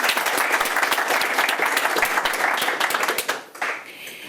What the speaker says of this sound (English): let's give her a round of applause in her absence